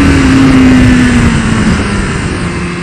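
A 2015 BMW S 1000 RR motorcycle engine at high speed, around 120 mph, holding a loud, steady high-pitched whine that eases slightly as the rider drops a gear, close and continuous.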